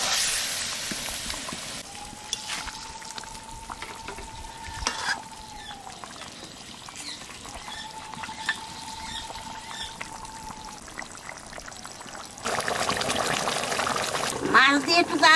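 Large boal fish going into simmering curry liquid in a pan: a steady bubbling sizzle with stirring scrapes, a faint whistling tone in the middle stretch, then louder splashing and stirring near the end.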